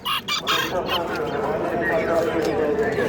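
Roosters and hens cluck and call in a noisy poultry market in Namangan, with people talking throughout.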